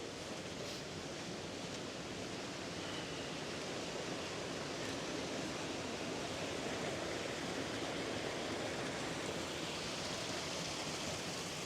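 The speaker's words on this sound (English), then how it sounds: "There's another stream or river coming into it." Rushing stream water near a packhorse bridge and waterfalls, a dense, steady broadband roar that stays loud and even throughout with no voices.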